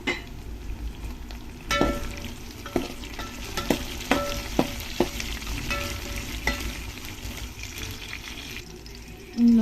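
Curry leaves and green chillies fry in hot oil over softened onions, a steady sizzle broken by sharp pops and a few spoon scrapes against the pan, with no voices.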